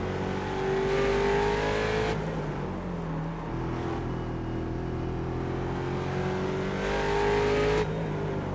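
A Mustang race car in iRacing at Mid-Ohio revving hard, with engine pitch swinging up and down through a couple of downshifts, loud and sustained and heard from the cockpit.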